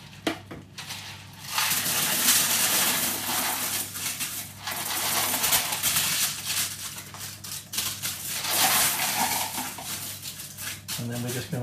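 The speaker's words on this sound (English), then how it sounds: "just going to cover it over with some foil, add some baking beans" Ceramic baking beans poured onto foil lining a pastry case for blind baking a 1914-style Texan pecan pie, a rattling cascade of small hard pellets in several bursts, close and fairly loud, with brief quieter gaps between pours.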